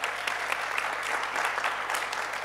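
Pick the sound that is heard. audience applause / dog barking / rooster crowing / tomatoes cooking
audience applause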